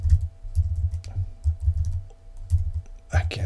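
Keys clatter on a computer keyboard in uneven bursts of close, soft clicks with low thumps, and a voice talks briefly over it.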